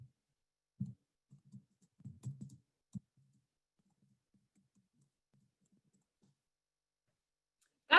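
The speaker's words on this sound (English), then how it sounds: "a little typing" Sparse, quiet clicks of typing on a computer keyboard come in a few short clusters separated by silence, close but faint.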